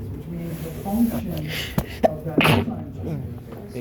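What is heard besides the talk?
sneeze during a lecture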